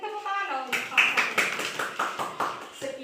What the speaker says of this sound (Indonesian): Nanti tepuk tangan dong.